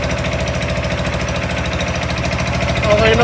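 A small engine runs steadily at a workplace, its close, loud chugging pulse holding an even rhythm throughout, with a slight rise near the end.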